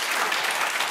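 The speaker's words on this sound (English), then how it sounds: "thank you for clapping" Studio audience applauding at a late-night talk show, a dense steady wash of clapping that stays loud and even for under a second, with no voices on top.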